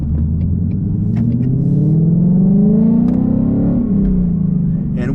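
An S550 Mustang GT with long tube headers and a straight-pipe exhaust without resonators revs up loudly and close, its engine note rising into a rough rumble before easing off, with no talk.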